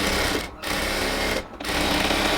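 A sewing machine double-stitching the side seam of ladies' pants. The fast, loud buzz of the needle runs continuously, broken by two brief pauses.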